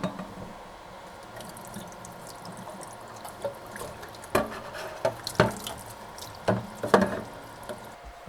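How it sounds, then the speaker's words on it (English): Water runs from a sink tap over sublimation tiles, a low steady trickle broken by sharper splashes and drips that grow more frequent toward the end. "Just put them in the sink, run some water on them."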